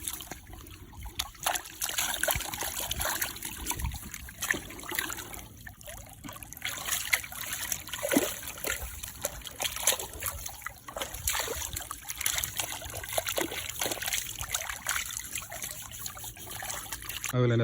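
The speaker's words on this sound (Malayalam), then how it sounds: "ഇവിടെ നല്ല ശുദ്ധജലം ഒഴുകി വരുന്നുണ്ട് അപ്പുറത്തെ തോട്ടിൽ നിന്ന്." Fresh water flowing from a nearby stream outdoors, a continuous close trickle and gurgle with bursts of splashing, under an ongoing airy background.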